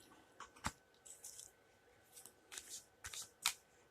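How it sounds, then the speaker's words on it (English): A deck of cards is shuffled up close in several quick, crisp riffling bursts separated by short pauses. "So a quick shuffle, a cut, and a draw."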